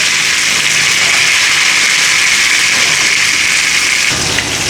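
Fish frying in hot oil gives a dense, loud, continuous hiss and crackle like heavy rain, heard close up with no voices.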